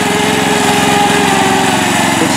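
A Mastercraft tractor engine running hard as its wheels spin in a mud puddle, a steady loud chugging drone with rapid regular pulses, continuous and close, with no talk.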